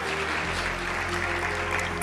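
A short burst of church audience applause during a sermon, dense and steady clapping over a low background hum.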